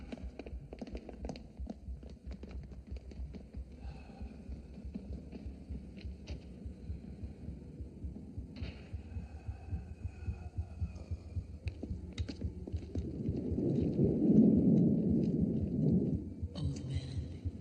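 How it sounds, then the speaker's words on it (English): A heartbeat thumps low and steady in a dramatic horror setting, with spoken voices over it and a swelling rumbling drone building toward the end. "Old man, hear your heart beating."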